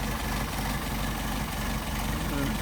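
A Solex moped engine idles slowly at about 550 RPM, giving a steady, close, low putter with a dense mechanical rumble that holds even throughout.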